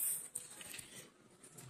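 Soft, steady rain patters and hisses, faint and continuous, with no voices.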